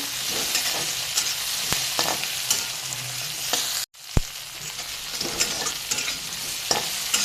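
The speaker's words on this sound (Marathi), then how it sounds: "मसाला सगळा एकजीव झाला पाहिजे असा. त्याला 2 मिनिटं चांगलं परतवून घेऊया आपण." Masala for a spicy brinjal curry, with ginger added, is stir-fried in a pan, giving a steady close sizzle with scraping stirring strokes. A brief silent break falls midway before the frying resumes, and no one speaks.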